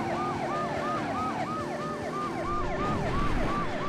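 Wailing ambulance siren from the Driver 2 video game, cycling rapidly and steadily up and down over a continuous engine rumble, loud and alone.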